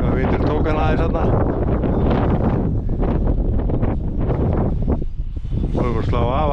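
Strong wind buffets the microphone at an RC model airfield with an E-flite Extra 300 aerobatic plane, a loud continuous roar and rumble with a voice speaking through it.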